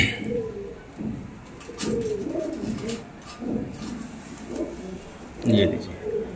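Rampuri high-flyer pigeons coo in soft, repeated throaty rolls, several birds close by in a loft, with people talking throughout.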